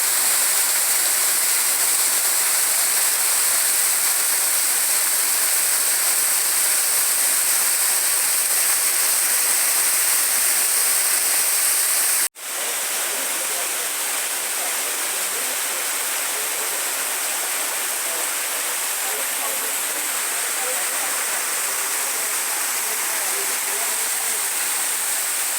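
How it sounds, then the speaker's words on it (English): The Almas Waterfall in Tijuca National Park, Rio de Janeiro, roars as a steady loud rush of falling water that fills the whole scene, broken once by a brief cut midway, with no voices. "today I show you the Almas Waterfall, a beautiful waterfall located in Tijuca National Park,"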